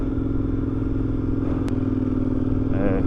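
KTM 1090 adventure motorcycle ridden through desert sand, its engine droning steadily and loud throughout with a brief clatter mid-way as it shifts into second gear, then pulls on.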